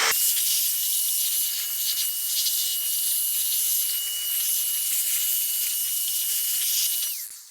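A Meco Dust Buster air duster blasting dust out of an old computer, a loud continuous high-pitched hiss of compressed air held close for about seven seconds before tapering off.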